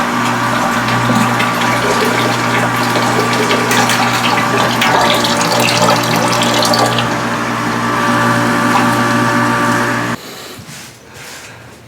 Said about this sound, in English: Got a nice stream of water running.